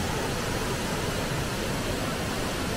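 Twin Dragon waterfall at Xiaoqikong in Guizhou, China, a steady, dense roar of falling water filling the scene without a break.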